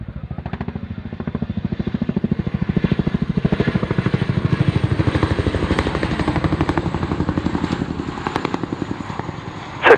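A Chinook helicopter comes in to land at the Royal International Air Tattoo, its twin rotors beating in a loud, rapid, steady thump over engine whine, close and unbroken throughout.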